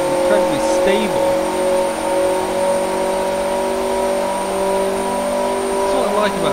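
A high-horsepower engine running on a dyno at over 1,500 horsepower holds a steady, smooth drone with strong harmonic tones, while someone talks over it.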